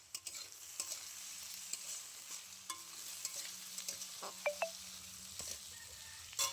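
Diced potato with chopped green chili, garlic and ginger frying in a pan, a steady soft sizzle broken by scattered clinks and scrapes of stirring, close and moderately quiet with no voice.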